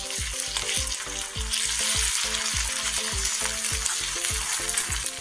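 Garlic-ginger paste fries in a pan for Kerala-style fish pickle, sizzling loudly and steadily while a spoon scrapes through it in quick, regular strokes, with no voices.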